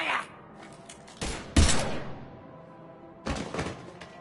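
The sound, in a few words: gunfire in Mass Effect 3 video game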